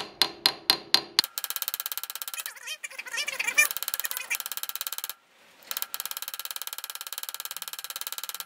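A hammer peens the pins of a slipjoint knife, first a few sharp separate strikes, then a long run of rapid close taps with brief pauses and shifts in tone.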